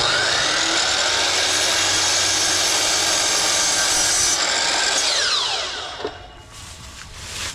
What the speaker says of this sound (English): what I'm going to do is I'm going to cut the legs in half, see if that helps. I got my saw